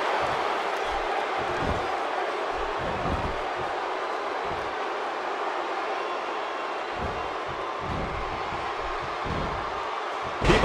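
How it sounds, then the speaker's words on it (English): Steady, dense crowd noise from a WWE 2K16 video game wrestling match at WrestleMania, a continuous roar of cheering arena fans holding level throughout with a slight swell at the very end. "by the sound of this crowd, I think they're getting what they wanted"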